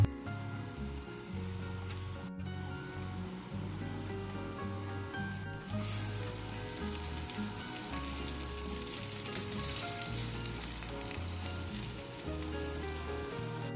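Banana pepper, onion and garlic fry in a pan on a home stove in Mexico, giving a steady hiss and crackle of sizzling food with low kitchen rumble beneath, loud and close throughout with no talking.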